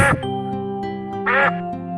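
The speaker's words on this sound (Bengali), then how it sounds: "এটা হলো হাঁস।" A duck quacks loudly and close, two nasal honking calls separated by a pause, over a sustained tonal background.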